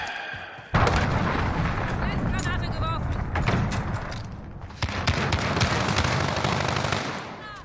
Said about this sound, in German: Verbündeter Marschflugkörper